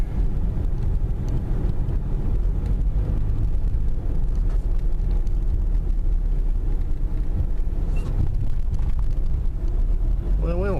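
Steady interior drone of a car with a big Iron Duke four-cylinder driving around a neighborhood, constant road and engine rumble with faint rattles throughout.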